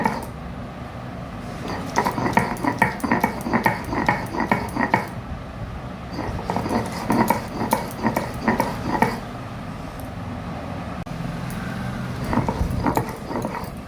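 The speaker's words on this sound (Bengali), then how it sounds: "আগে পাতাটা বেটে নিতে হবে" Kharkol leaves are ground with salt into a paste, making rhythmic scraping and thudding strokes of grinding at close range, in uneven bursts over a steady background.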